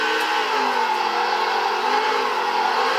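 A race car engine in the NASCAR 09 video game on PS2 roars steadily at high revs under acceleration, a loud, continuous buzzing drone with slight pitch wavering and no talking.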